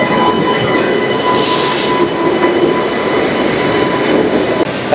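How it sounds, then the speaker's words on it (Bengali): A train stands at a Kolkata station platform, just arrived from Dibrugarh, giving a loud continuous rumble and hiss of engine and wagons with faint metallic squeal, steady throughout without talk. "ট্রেন এইমাত্র পৌঁছেছে ডিব্রুগড় থেকে কলকাতা স্টেশন"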